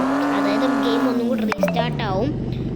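A revving car engine whines and shifts pitch as it speeds up and slows, with a tire screech midway; loud, synthetic-sounding game audio.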